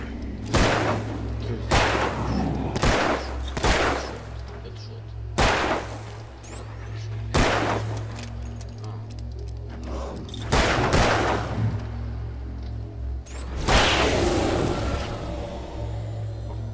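Gunfire in the video game Alan Wake, a series of sharp, loud shots fired at irregular intervals over a steady low rumbling backdrop, some blasts trailing into echoing decay.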